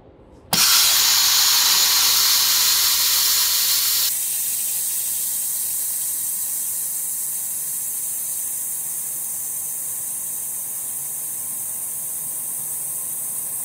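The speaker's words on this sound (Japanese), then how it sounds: "本機のエアは黄色いシャッターを下に下げることで抜くことができます。" Compressed air bursts out of a maintenance machine as its yellow shutter is lowered, starting with a sudden loud hiss, then dropping to a quieter, steady venting hiss that slowly tapers over many seconds.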